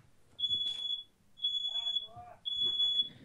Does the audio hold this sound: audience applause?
no